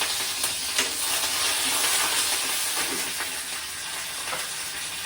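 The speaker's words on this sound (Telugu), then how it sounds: "కరివేపాకు వేస్తున్నాం" Curry leaves dropped into hot tempering oil sizzle and hiss steadily, with a few sharp crackles and pops, close-up and without any talking.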